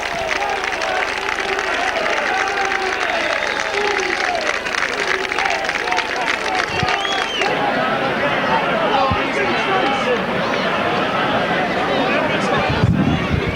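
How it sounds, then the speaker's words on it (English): Wakefield Trinity rugby league crowd cheering after a try, a dense, sustained roar of voices and applause filling the ground, with a commentator talking over it. "And just listen to this Wakefield Trinity crowd"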